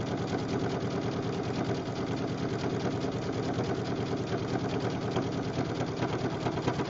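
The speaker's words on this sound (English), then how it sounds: "I'm just letting the machine sew the strips." A sewing machine runs continuously, stitching fabric strips together for a jelly roll rug; a loud, steady rapid needle rhythm with a motor hum, close and without talk.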